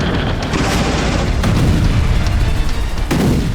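An air strike explosion from a Tu-95 bomber hitting a Ukrainian combat boat: a loud, continuous heavy rumble with deep booming swells and a few sharper bursts rolling through.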